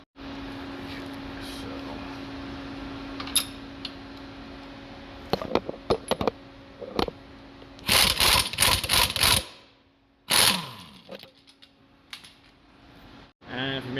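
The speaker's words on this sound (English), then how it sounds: "grab your wrench, and while you're loosening this bolt, you're going to want to apply a force that way" A wrench works loose a rear strut bolt on a 2003-2006 Ford Expedition, giving bursts of quick metallic ratcheting clicks and clanks over a steady background hum.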